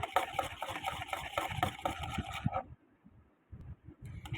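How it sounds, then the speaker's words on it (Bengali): Egg yolk whisked with a little cooking oil and a pinch of salt in a bowl, fast rhythmic spoon clatter and scraping up close for over two seconds, then a short pause before the stirring resumes more softly. "আমি এখন আমি একটু ভালো করে মিক্স করে নিতেছি"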